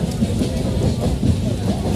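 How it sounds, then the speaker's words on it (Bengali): A late train rumbles into a station with a steady, dense, close roar and a faint clatter of wheels that keeps an even level throughout. "ফাইনালি ট্রেন এসেছে।"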